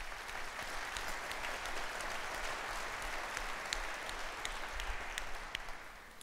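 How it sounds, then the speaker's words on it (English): An audience at an active-shooter awareness talk gives a round of applause, a soft, steady patter of many hands heard from a distance that fades slightly toward the end. "Round of applause to you folks."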